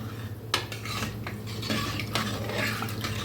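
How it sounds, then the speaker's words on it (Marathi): A spoon stirs cooked dal in a metal pot for sambar, with a soft, thick swishing broken by several sharp clinks and scrapes against the pot's sides, close and alone. "पुन्हा मिक्स करूया डाळीला"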